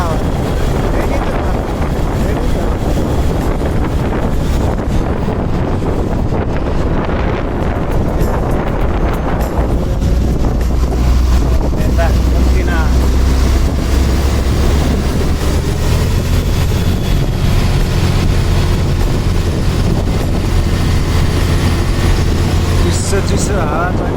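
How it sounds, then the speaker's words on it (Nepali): Cold mountain wind roars steadily against the microphone on a trip from Pokhara toward Muktinath in Nepal, making a dense, unbroken rush with a deep rumble underneath. "चिसो हावा चलिरहेको"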